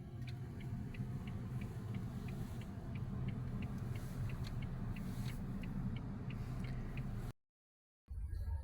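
Car engine rumbling steadily on the drive home from a bazaar in Korsun, a continuous close road drone with faint repeating ticks, cut by a brief silent gap near the end.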